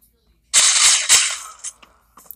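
Gunfire in the video game Central Ops comes as a loud burst of rapid shots, followed by a second crack and a few scattered mechanical clicks before it fades.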